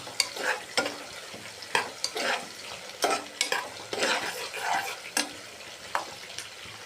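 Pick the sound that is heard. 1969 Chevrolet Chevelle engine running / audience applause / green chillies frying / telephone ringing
green chillies frying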